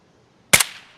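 A single rifle shot from an SKS or AKM in the video game Escape from Tarkov, fired at a 200 m target, gives one sharp, loud crack followed by a short, fading echoing tail.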